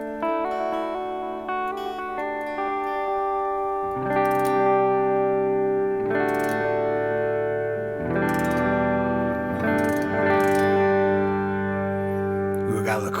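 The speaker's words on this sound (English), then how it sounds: "It's a stereo delay." Sustained electric guitar chords through a stereo delay ring out with repeating echoes, new strums arriving every couple of seconds and trailing into a spacious wash.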